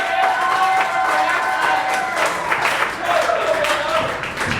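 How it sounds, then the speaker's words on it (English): Loud crowd applause at a ComedySportz comedy show, steady clapping mixed with cheering and a few whistles throughout. "Let's give a big round of applause."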